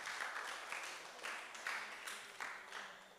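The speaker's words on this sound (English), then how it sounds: "Let's give them a big hand of applause" A room of attendees at a community parenting session in Mt. Horne, Grenada claps; fairly faint, with the applause rising and falling in a few swells.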